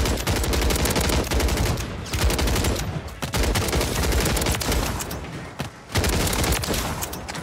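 Sustained gunfire from the battle royale shooter Warzone, dense overlapping bursts of automatic fire crackling almost nonstop, loud and close, with only a couple of brief lulls.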